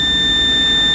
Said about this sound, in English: See, it's a digital beep. This is called digital beep.